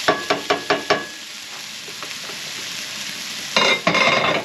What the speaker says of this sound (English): you can see how the onion is starting to brown a little bit